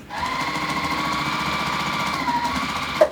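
A sewing machine stitches the final seam of a half-square-triangle quilt block with the right sides together. The needle chatters rapidly and evenly, loud and close, for about three seconds before stopping with a small click.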